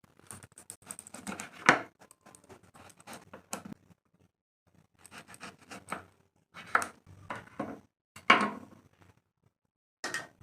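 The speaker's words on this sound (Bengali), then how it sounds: "সবার প্রথমে আমি এখন এই বেগুনটাকে কেটে নেব।" An eggplant cut with a knife on a board, a close series of short cutting thuds and crunches in irregular bursts separated by quiet pauses.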